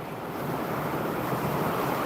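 Ocean waves wash onto a beach in a continuous broad roar with some wind noise, filling the short stretch with no one speaking.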